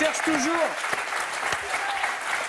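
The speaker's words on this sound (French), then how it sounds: "On peut les applaudir" A television studio audience claps through a French game show, steady applause under a host's speech and a short whistle-like vocal sweep near the start.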